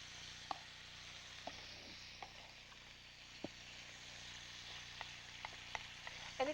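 Peppers frying in oil in a pan, a faint continuous sizzle with scattered soft pops and clicks from stirring, fairly quiet throughout.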